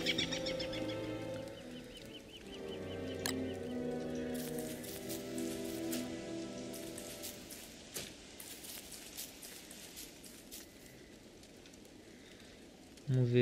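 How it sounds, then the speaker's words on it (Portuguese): Steady rain patters in the Don't Starve video game under layered music tones and soft ambient sound, fairly faint and continuous throughout. "Aproveitar, tá chovendo"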